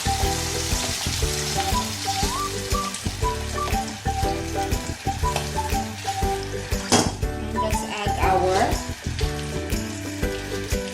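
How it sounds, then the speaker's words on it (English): Beef bouillon stock poured into a hot pot of Japanese beef curry, setting off a loud continuous sizzle and bubbling hiss with some clinking of utensils, close up and without speech. "So after that, I'm going to add the stock."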